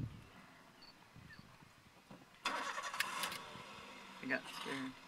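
A car engine turns over and catches midway, then idles and pulls off as the noise swells and shifts; a voice talks quietly beforehand, with lion cubs nearby in the wild.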